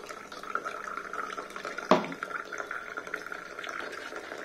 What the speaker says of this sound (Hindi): पानी कितनी जल्दी उठा रही है ये मोटर, और ये बहुत जल्दी जो है गिलास भर रही है